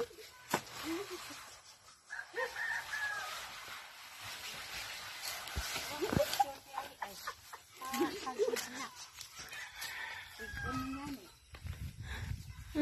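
Chickens cluck on a Texas family farm, soft clucks and short calls scattered through the clip, mixed in with people talking and farmyard handling noise.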